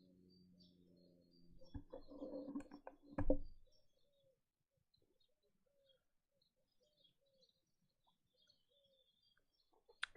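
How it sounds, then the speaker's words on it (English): A few video game bird coos and chirps early on, then near silence with faint scattered tweets and a brief noise at the end. "Just listening to those birds, it's very peaceful"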